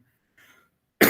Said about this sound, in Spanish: es que tengo un poquito de tos todavía